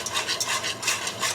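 A flour roux is stirred quickly in a pan for cheeseburger hamburger helper, making a close, rhythmic scraping swish that repeats every fraction of a second.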